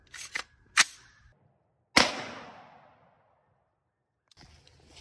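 A .223 AR-15 rifle fired into cinder blocks outdoors, heard as a single loud, sharp crack followed by a decaying echo, with a few lighter clicks and handling noises before it and a faint rustle afterward.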